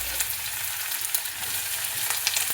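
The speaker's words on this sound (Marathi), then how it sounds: "कांदा आणि मिरची थोडीशीच भाजायची" Onion and chilli frying in hot oil with garlic and mustard seeds in a pan, a steady close sizzle with faint crackles and a few stirring scrapes, no voices.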